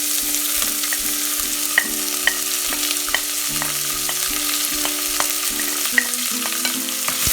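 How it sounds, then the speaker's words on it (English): Chopped onion fries in a pan of oil as the base for a chickpea gravy, a steady sizzle with periodic sharp clinks and scrapes of a stirring utensil, close and continuous, no talking. "And fry it for a while."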